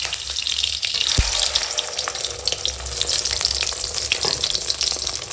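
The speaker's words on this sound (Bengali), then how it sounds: "ডিম ভেজে নিচ্ছি" Eggs fry in a pan with a close, continuous crackling sizzle that stays steady throughout, with an occasional light clink and no voices.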